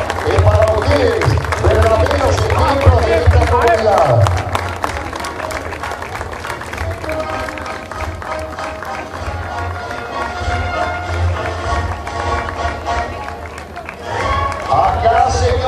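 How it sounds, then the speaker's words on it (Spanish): A crowd at a patron saint festival applauds for several seconds, the clapping dense at first and then tapering, with announcer talk and crowd voices mixed in over it. "El aplauso es para ustedes."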